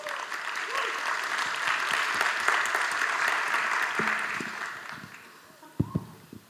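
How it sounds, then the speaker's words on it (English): Conference audience at a social media week event in Malaysia applauds steadily for about five seconds, a dense wash of many hands clapping that fades out, followed by a few close knocks or handling thumps at the end. "So please give him a huge round of applause."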